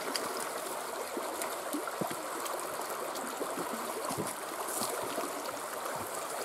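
A river running high at an Appalachian Trail crossing, a steady rushing, gurgling flow with small splashy bursts, fairly close and constant throughout, with no talking.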